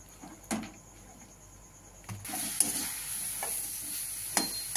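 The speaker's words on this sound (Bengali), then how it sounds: "দিয়ে দিচ্ছি কড়াইয়ের মধ্যে লাউ পাতাগুলো শুকনো কড়াইতে। এটা নেড়েচেড়ে একদম চিমসে যাবে" Bottle gourd leaves being stirred in a dry wok, with scraping stir strokes and soft sizzling, a few sharper clanks against the pan, steady and close.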